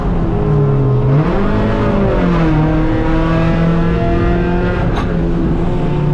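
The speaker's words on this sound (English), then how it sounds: "as you can hear, struggling with the gearbox." Loud race car engine droning from inside the car during a race at Mid-Ohio, pitch dipping and shifting as gears change unevenly with a struggling gearbox, then holding a steady whine.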